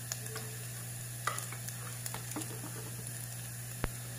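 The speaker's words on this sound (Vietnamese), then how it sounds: "Khi phần hành này mình phi cho nó thơm á, thì các bạn không nhất thiết là phải phi cho nó vàng nha" Shallots frying in a pan before fish is braised, a faint continuous sizzle under a steady hum, with a few soft taps and one sharp click near the end.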